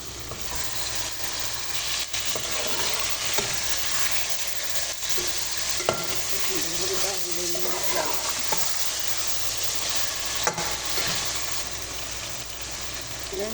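Spices with black pepper powder sizzle steadily in a hot pan, making a close, even frying hiss throughout, with occasional soft stirring scrapes and light clicks.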